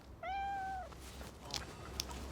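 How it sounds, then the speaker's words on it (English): A pet cat stranded high up a tree gives one clear, drawn-out meow, followed by a few faint, brief cries against quiet outdoor background. "cat stuck up this tree"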